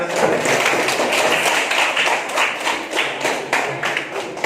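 Students in a classroom clap for a group that has just finished a presentation, a fairly close, brisk round of hand claps that rises and dips in loudness for a few seconds.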